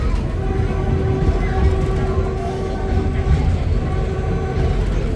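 Inside a moving passenger train in Cambodia, bound for Kep, a loud continuous rumble of wheels and carriage fills the cabin, with a steady tonal hum and faint rhythmic rattling throughout, no voices.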